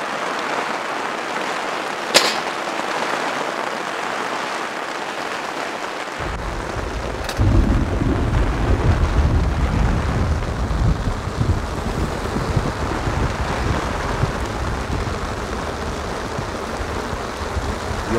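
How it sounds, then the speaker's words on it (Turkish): Heavy rain pounds down at a campsite during a violent hailstorm, a steady dense roar that swells louder about seven seconds in, with a couple of sharp knocks and no talking. "Yağmur hızlanıyor galiba."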